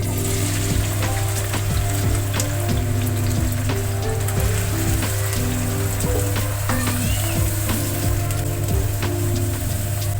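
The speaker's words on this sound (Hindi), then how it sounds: "ऑयल हमारा गर्म हो चुका है, ये हम प्याज इसके अंदर ऐड कर देंगे।" Sliced onions sizzle loudly in hot oil for egg bhujiya, a dense continuous crackle over a low steady hum, with scattered pops and no talking.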